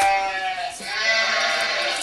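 A recorded sheep bleat plays from an Arduino-built prototype, a sustained wavering baa with strong harmonics that rises and carries on through the whole stretch, loud and close with no talking.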